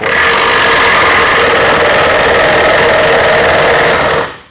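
A Milwaukee M12 battery-powered hammer driving a nail into wood in a confined space buzzes with a loud, continuous rapid hammering for about four seconds, then cuts off.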